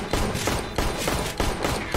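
Gunshots in Counter-Strike: Global Offensive, heard as close, rapid bursts of automatic fire in quick succession that fill the short stretch with a dense, rattling rhythm.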